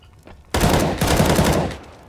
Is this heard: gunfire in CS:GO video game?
yes